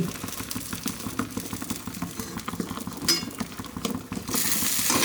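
Fried lentil boras dropped into date-palm jaggery syrup, a continuous bubbling, fizzing texture with light clinks of a spoon on the pot and a brief sharp scrape near the end, no talk.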